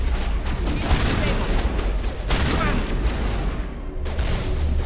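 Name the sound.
gunfire in the video game Mass Effect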